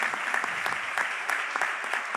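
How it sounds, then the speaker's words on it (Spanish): Audience at a special meeting breaking into applause, a steady dense wash of many hands clapping at an even level throughout, moderately close with no voices standing out. "Un aplauso, por favor."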